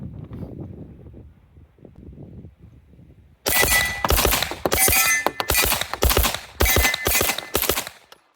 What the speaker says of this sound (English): I'm going to do some transitions with both of these guns